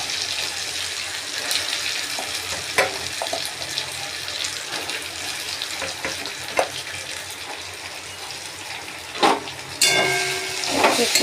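Soya chunk paste sizzles in a pan of hot oil with kasuri methi, giving a steady close hiss that swells into louder crackling bursts toward the end.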